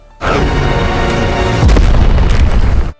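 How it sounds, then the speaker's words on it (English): A loud, deep explosion booms, followed by a heavier rumbling blast that lingers before ending abruptly. "Hearing the explosion"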